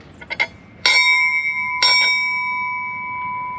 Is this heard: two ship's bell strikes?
yes